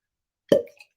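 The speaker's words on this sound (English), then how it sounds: "So let's go for a cork pop." A single real cork popping from a bottle, one close, hollow plop with a brief ringing tail and a tiny second click, alone in otherwise silent surroundings.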